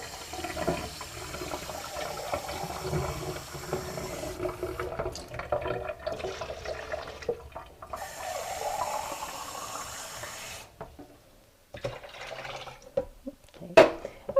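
Cold water is poured into frozen orange juice concentrate in a kitchen, several splashy pouring runs broken by short pauses, fairly close and moderately loud, with no talking.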